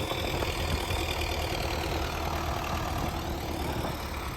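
An MTZ 82 tractor engine idles close by with a steady, even rumble and a faint knocking texture, continuing unbroken without any voices.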